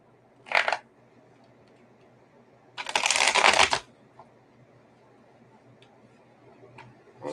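Tarot cards are shuffled in two quick bursts, a brief riffle and then a longer, louder one, close and crisp against a quiet room with faint small ticks.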